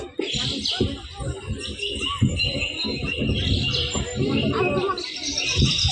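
Several birds chirp and tweet repeatedly in the background, overlapping with one another amid a busy outdoor ambience.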